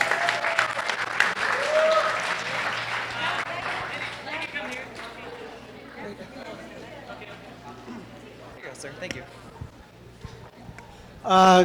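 Wedding reception guests clap for the bride's parents, a loud burst of applause and chatter that gradually thins out over several seconds, with voices mixed in.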